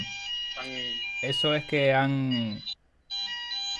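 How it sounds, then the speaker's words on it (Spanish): An alarm sounds inside a science and technology museum building, a steady high electronic tone heard under someone speaking Spanish, cutting out briefly and then resuming. "No es ninguna alarma que nos deba preocupar"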